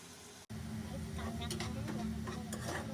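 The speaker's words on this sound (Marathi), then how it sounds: "मग आता टाकायचं आहे कांदा आणि मिरची." Onion and chili go into a hot pan for an egg shakshuka and are stirred. The sizzle is steady with intermittent scraping, and someone talks over the cooking.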